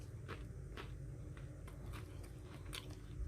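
Someone bites into a Crisp Crisp chocolate bar at room temperature, not frozen, with a few sharp close crunches followed by quieter chewing, heard alone without talk.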